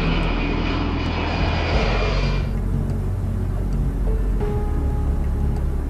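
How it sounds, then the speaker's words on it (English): Boeing E-3 Sentry radar-dome aircraft of the US Air Force in flight. Its engines give a steady, loud jet roar with a broad rumbling drone, and the tone shifts partway through. "it's very hard to believe that the Boeing E-3 Sentry is one of the most important aircraft for the United States military"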